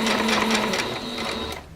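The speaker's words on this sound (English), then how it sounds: "Let me back stitch a little bit." A sewing machine back stitching a shirt, running in a short close whirring burst that slows and stops.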